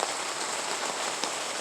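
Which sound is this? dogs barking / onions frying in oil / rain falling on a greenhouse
rain falling on a greenhouse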